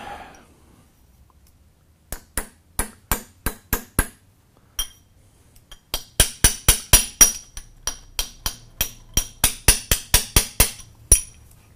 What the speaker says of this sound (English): we take our small hammer.